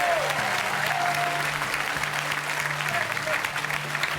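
Studio audience applause on the French TV game show 1 contre 100, a loud continuous clapping from a crowd with a low musical hum underneath, lasting the full four seconds.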